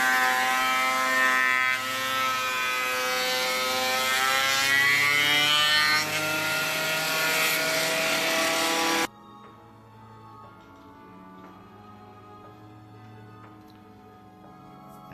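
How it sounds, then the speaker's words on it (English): A planer runs through a surfboard blank with a loud, steady, whining drone for about nine seconds, then cuts off, leaving a quieter background with faint scattered knocks. "Today we put it through the planer."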